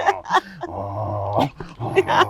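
A dog growls and gives short, agitated barks and yips close by in a room, in bursts over about two seconds, with some voices around it.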